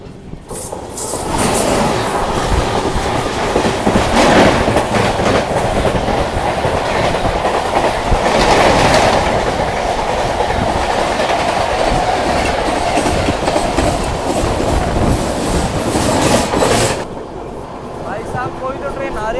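The Netaji Express with LHB coaches rushes past close by at high speed, a loud, steady roar with clickety-clack from the wheels that lasts about fifteen seconds before dropping away.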